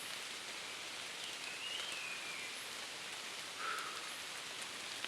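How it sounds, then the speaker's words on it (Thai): Steady rain falls on a forest of fruit trees, making an even, continuous hiss with no voices. "ฝนตกอีกแล้วทุกคน"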